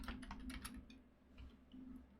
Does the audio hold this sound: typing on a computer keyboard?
yes